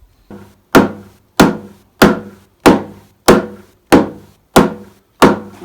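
A homemade mallet cut from a piece of firewood pounds a wooden peg, giving nine sharp, evenly spaced thuds about every two-thirds of a second, close and alone.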